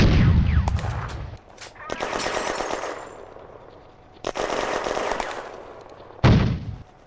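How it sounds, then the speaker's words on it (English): Heavy machine-gun fire in a May 1940 WWII battle game, several long rattling bursts of rapid shots, loud and close, separated by short lulls and ending with another sharp burst. "The French respond immediately with heavy fire"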